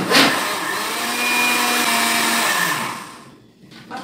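An electric mixer beats a gluten-free, lactose-free chocolate cake batter with rice flour, a loud steady motor whine with a faint pitch shift, then slowing and stopping near the end before a brief restart.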